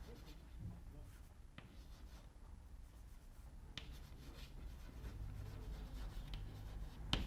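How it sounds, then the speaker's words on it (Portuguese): Chalk or marker writing on a classroom board during a Portuguese grammar lesson, heard as faint scratchy strokes under a steady room hum, with a few sharper taps. "Eu posso escrever essa"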